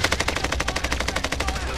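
Rapid automatic gunfire in Call of Duty Modern Warfare, a steady stream of closely spaced shots lasting the whole moment, loud and dense with no talk over it.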